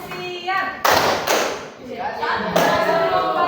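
An Indonesian classroom of children performs the 'tepuk siap' clapping chant: a few bursts of group hand claps in rhythmic groups, close and fairly loud, with children's voices mixed in.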